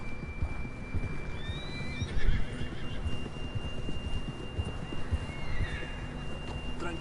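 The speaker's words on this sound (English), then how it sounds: "John was riding that horse when we left Blackwater." A horse whinnies twice over a steady rumble of hooves and outdoor noise in the video game Red Dead Redemption 2, the calls rising and falling, moderately loud.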